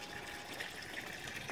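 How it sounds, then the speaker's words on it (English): Water gushes steadily from the air conditioning discharge outlet on the hull of a 34-foot Sea Ray 340 Express cruiser, a continuous near splashing wash with no voices. "Air conditioning is running in the boat, hence the water coming out there."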